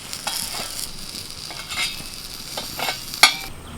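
Banana flower paturi wrapped in banana leaves frying gently on low heat, a soft steady sizzle with scattered scrapes and a sharp clink as the parcels are turned in the pan.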